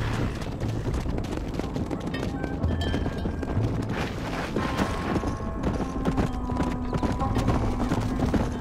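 Horse hooves clip-clop steadily at a trot through the Red Dead Redemption video game, loud and continuous under game ambience and music, with no talk over them.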